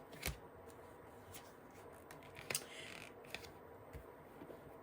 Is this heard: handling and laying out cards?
yes